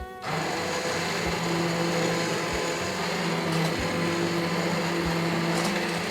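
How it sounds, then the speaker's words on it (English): A steady, loud motorized whir of a stick blender pureeing garlic and potato soup runs continuously, with a faint rhythmic thump beneath the hum. "we're going to use the stick blender"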